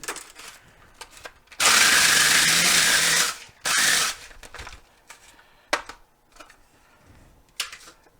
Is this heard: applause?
no